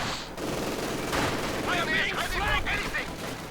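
Battlefield gunfire in the Company of Heroes 2 video game, with MG42 machine guns and Mosin Nagant rifles, sounds as a dense, continuous crackle of shots and bursts, with layered distant firing throughout.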